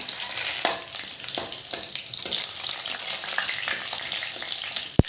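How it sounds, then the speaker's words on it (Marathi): Red chili dropped into hot tempering oil in a kadhai for sambar, giving a steady bright sizzle with scattered small crackles and pops, then a sharp clatter at the very end, with no voices. "लाल मिरची टाकूया आता आपण"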